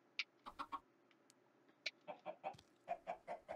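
Chickens clucking in the video game Minecraft, a series of short, separate clucks and chirps in a loose rhythm, faint and close with nothing else behind them.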